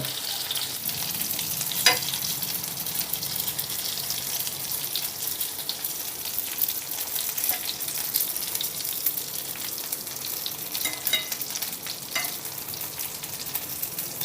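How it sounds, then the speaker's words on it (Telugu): Stuffed brinjals fry over a low flame in a pan while being turned, giving a steady soft sizzle with occasional scraping clicks from the utensil, close and continuous with no talking. "ఇప్పుడు మెల్లిగా మన వంకాయల్ని రెండు వైపులకు ఇలా తిప్పుకుంటూ ఫ్రై చేసుకుందాం"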